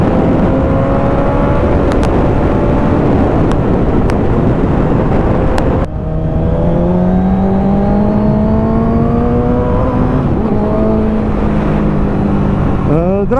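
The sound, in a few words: Suzuki GSXR 750 SRAD 1998 motorcycle engine revving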